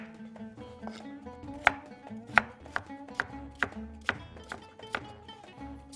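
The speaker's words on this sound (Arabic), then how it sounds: "بقطع دول مكعبات صغيره كده" Ingredients for a seafood casserole being diced into small cubes on a cutting board, a quick series of crisp knife chops at a steady rhythm, close and clear, no talking.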